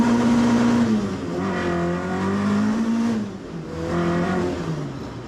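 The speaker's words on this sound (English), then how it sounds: "Revs are really hanging on now." A car engine whose revs hang on from an overly tight throttle cable drones in the cabin during a shakedown drive, holding high pitch then sagging and rising again in slow, sustained swells.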